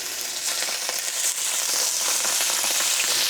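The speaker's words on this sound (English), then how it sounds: "to sear off the beef, we're actually gonna use the oil that we fried the shallots in" Beef searing in hot oil left from frying shallots, a loud, dense, continuous sizzle and crackle close up, with no talking.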